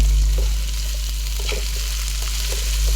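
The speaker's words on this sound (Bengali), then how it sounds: "বরবটিটা দিয়ে একটু ভেজে নেব।" Yardlong beans and sliced potatoes fry in hot oil for egg noodles, making a constant close sizzle with occasional stirring scrapes over a low steady hum, and no one speaks.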